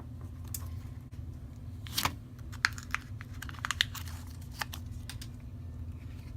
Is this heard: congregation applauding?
no